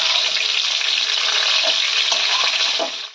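Cauliflower pieces fry in hot oil in a pan, a dense, steady sizzling hiss close up with faint clinks of stirring, cutting off abruptly at the end.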